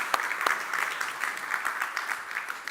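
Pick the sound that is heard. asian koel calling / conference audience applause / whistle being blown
conference audience applause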